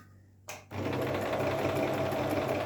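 A Singer Promise 1412 sewing machine stitches zigzag, starting with a brief whir and then settling into a steady, fast, close mechanical hum with a rapid rhythmic needle clatter.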